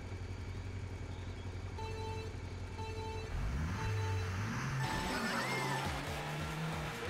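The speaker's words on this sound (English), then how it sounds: "the engine sounds at the start" Karts rev their engines at the race start in Mario Kart 8 Deluxe, game engine tones rising and stepping in pitch over a steady hum, fairly quiet with no talking.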